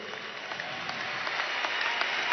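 A brief burst of crowd applause rises at a Misión Ribas graduation event, with steady clapping from many hands that swells slightly over a couple of seconds.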